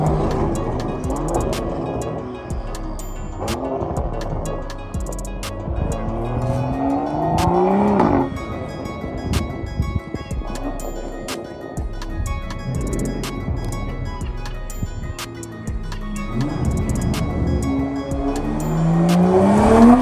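A Toyota A90 Supra fitted with a Magnaflow xMod cat-back exhaust and catless straight-pipe downpipe, loud and close, revving and pulling through repeated rising gear sweeps with brief drops between shifts and tire squeal.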